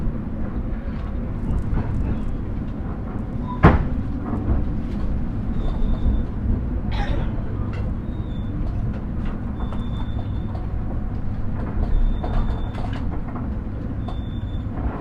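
Inside a carriage of the Gajayana passenger train, a steady low rumble and rattle of wheels on rail runs throughout, with a sharp clack near the start and faint repeated high tones in the background.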